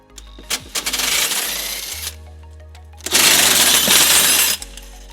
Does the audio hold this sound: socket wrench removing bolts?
yes